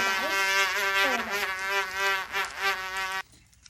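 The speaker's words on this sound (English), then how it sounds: "We live in Australia. We have flies." Several houseflies buzz close by outdoors in Australia, a loud, steady droning hum with wavering pitch as they circle near the microphone, stopping abruptly just before the end.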